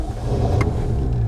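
A 1972 Jaguar E-Type 2+2 V12 engine turns over and catches, a brief close, loud low rumble that settles into a steady idle.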